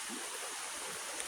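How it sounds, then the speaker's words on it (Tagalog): Steady, even rush of creek water flowing in an outdoor nature setting, a constant broadband hiss with no breaks and no talking. "Sapa, ano ba tawag? Sapa,"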